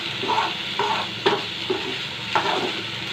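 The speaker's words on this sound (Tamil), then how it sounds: "இது வந்து இடையிடையாக கிளறி விட்டுருங்க, இல்லைன்னா அடி பிடிக்கும்." Chicken frying in a pan on a low flame, stirred now and then, gives a steady sizzle broken by a few soft scraping strokes of a spoon against the pan. No one speaks.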